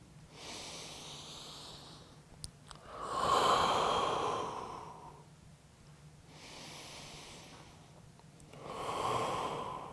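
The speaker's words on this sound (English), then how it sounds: "Two more breaths here." Slow, deep breaths during a yoga pose, long airy inhales and exhales swelling and fading in a steady rhythm, close and fairly soft with no talking.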